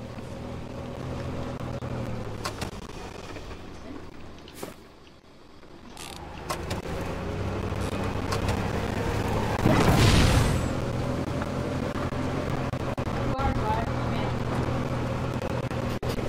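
Vehicle driven in Fortnite, a steady engine drone that drops briefly, then builds back up with a bump or thud midway, under occasional player talk.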